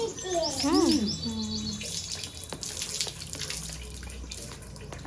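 Water splashes and pours as a cow named Gauri is bathed outdoors on a farm, with irregular splashing and trickling, a bird chirping loudly near the start, and faint background noise.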